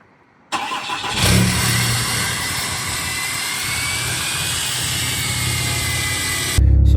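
A turbocharged 6.7 diesel truck engine with stock turbo roars to life and revs, a loud sustained turbo whine and rumble filling the air close by.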